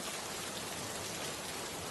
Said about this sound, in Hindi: रास्ते में दोबारा जोरदार बारिश शुरू हो जाती है